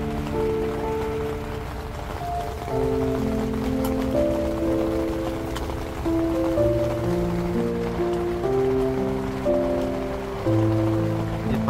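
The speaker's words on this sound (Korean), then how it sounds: "빗소리가 너무 심한데 잠이 올려나 모르겠네요." Heavy rain beats on a tent during winter camping in Korea, a dense, steady hiss and patter that runs loud and close throughout with no voices.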